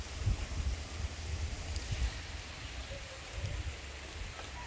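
Steady patter of rain with a constant hiss, punctuated by low thumps of wind buffeting the microphone.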